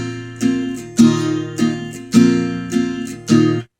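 Acoustic guitar strummed in a 1-and-4-and pattern, with six sharp strums in a steady, repeating rhythm, the chords ringing close and loud, no voice.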